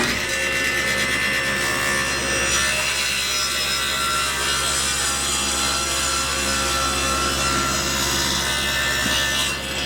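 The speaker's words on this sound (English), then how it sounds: "We got to trim up the side here and the side over here on the table saw" A table saw runs steadily, blade whining and grinding through a padauk and maple cutting board in one loud continuous stretch with no talking.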